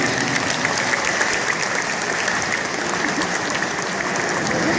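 A gathering audience gives a long, steady round of applause honouring elderly patriots, with dense clapping that stays even and close for nearly five seconds with no talk over it.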